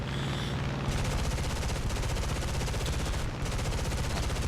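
Aircraft guns firing in War Thunder arcade air combat around an LA-5 fighter, a loud sustained rapid rattle of automatic fire with one brief pause, close and continuous.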